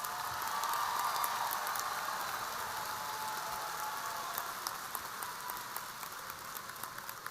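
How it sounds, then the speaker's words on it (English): Audience applause at a high school graduation in 2022, greeting the honor graduates: steady, dense clapping from a large crowd that holds even and moderately distant throughout. "Please give a round of applause to our honor graduates"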